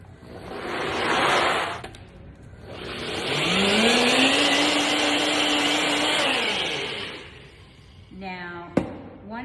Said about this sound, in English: So I put this into the blender